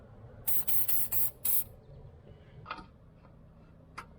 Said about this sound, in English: just spray some spray silicone